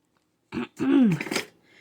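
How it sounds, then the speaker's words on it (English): A woman clears her throat in one short rough burst followed by a longer gravelly rasp, close and alone in a quiet room while crafting a junk journal. "You'll hear me keep clearing my throat."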